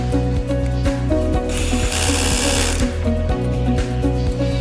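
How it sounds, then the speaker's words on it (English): A powered screwdriver drives screws into the lock rod fixing plate of an LED display cabinet, giving a close, steady whirring buzz with rhythmic ratcheting clicks and a brief rising burst of louder grinding partway through. "Install the screws."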